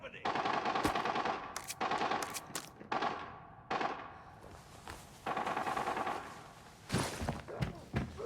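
Gunfire rattles in the shooter game Arena Breakout, with repeated loud automatic bursts broken by short pauses, fairly close, and a voice talking faintly in places.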